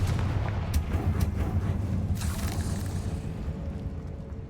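A Confringo blasting spell going off in a Harry Potter video game: a loud, continuous rumbling blast with crackling bursts, dense low booms rolling throughout and sharp pops near the start.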